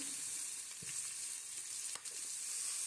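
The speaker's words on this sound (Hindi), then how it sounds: "यहाँ पर हमारी जो वेजिटेबल है वो सौते हो गई है।" Vegetables sauté in a hot pan for chicken jalfrezi, a steady close sizzle with a couple of soft stirring scrapes and no talk.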